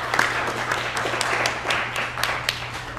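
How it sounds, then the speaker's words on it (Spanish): Applause from an audience for two invited professors at a talk, a modest group clapping with distinct individual claps audible over a low background hum. "un aplauso por ustedes."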